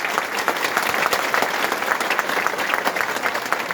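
Crowd at a rally against cyanide gold mining breaking into dense, sustained applause, loud and steady throughout with faint voices mixed in the background.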